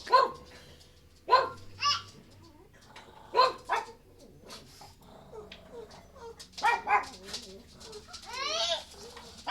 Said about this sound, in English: They're barking at the trash truck.